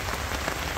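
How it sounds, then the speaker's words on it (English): Heavy rain pours down hard during a storm over a garden of dragon fruit plants, a dense, continuous hiss of drops close by with no voices. "It is raining hard."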